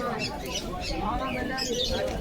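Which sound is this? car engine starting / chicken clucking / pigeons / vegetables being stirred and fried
pigeons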